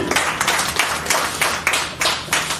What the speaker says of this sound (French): Nous allons vous demander simplement de les applaudir.